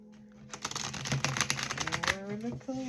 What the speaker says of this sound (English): let me go ahead and shuffle one more time.